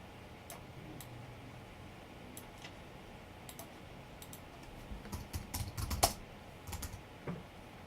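Quick bursts of typing on a computer keyboard, soft close key clicks in uneven clusters that grow louder and denser toward the end, alone in a quiet room.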